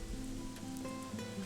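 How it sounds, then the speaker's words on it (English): Steady rain falls in the video game Gothic 3, a soft continuous patter with a low ambient hum and faint music-like tones beneath. "I don't know why it's raining or dark all of a sudden."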